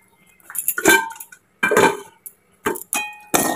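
Chow mein with broccoli, egg, carrot and nuts being stirred in a pan, heard as a run of sharp metallic clinks and scrapes from utensil on pan coming in irregular bursts with brief silences between them, no talk.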